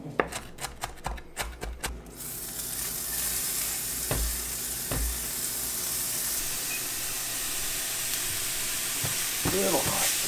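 Onion and green pepper frying in a hot pan, a few sharp clatters at first giving way to a steady, close sizzle with occasional stirring scrapes throughout.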